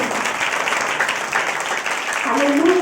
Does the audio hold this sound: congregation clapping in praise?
yes